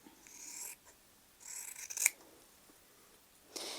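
Scissors trimming quilt fabric after sewing along a pencil line, a few quiet crisp snips spaced out with a sharper cut near the middle, close and alone without talk.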